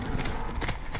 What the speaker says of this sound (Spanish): Cacería a caballo.